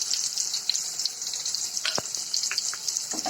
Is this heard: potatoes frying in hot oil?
yes